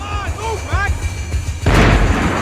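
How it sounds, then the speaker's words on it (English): Long-range gunfire in the video game Max Payne 3: a brief tonal, voice-like passage gives way to a sudden loud, sustained burst of shots and blasts that fills the rest of the moment. "The bullets came from long range."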